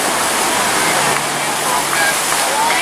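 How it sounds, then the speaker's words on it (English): Riders splash out of a water slide at Volcano Bay water park, a loud, steady rush of churning water close by, with a voice talking over it. "here they come around the turn and splashing out."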